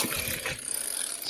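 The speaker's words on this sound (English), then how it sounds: "That's the sound of twigs entering your back wheel." Twigs caught in the back wheel of a mountain bike on bushy single track make a rapid ratcheting, clicking rattle. The sound is close, continuous and fairly steady over a brief moment, with no talk.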